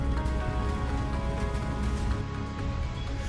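Heavy monsoon rain pours onto a waterlogged stretch of the Delhi–Lucknow highway in Hapur, Uttar Pradesh, a dense, continuous roaring hiss of falling water that stays loud and even throughout, with no clear voices.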